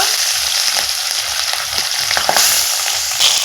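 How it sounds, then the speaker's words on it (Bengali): Pabda fish frying in hot oil in a wok make a loud, dense, continuous sizzle with crackling pops, close up and without talk. "তেলটা গরম হয়ে গেছে এখন আমি মাছগুলো ভেজে নিব এক এক করে মাছগুলো আমি কড়াতে দিয়ে দিব"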